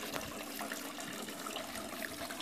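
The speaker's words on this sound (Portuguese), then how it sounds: "Caindo água certinho, nada de vazamento." Water pours steadily from a painted resin cascade fountain piece, a continuous soft splashing trickle heard close and fairly quiet, with no voices.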